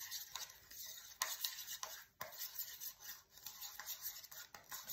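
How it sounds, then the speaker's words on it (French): A utensil stirs mayonnaise with cumin, salt and curry in a bowl, giving close, soft scraping and rubbing strokes in an uneven rhythm with occasional light clicks against the bowl. "Donc vous avez votre mayonnaise comme ça et on va juste la mélanger."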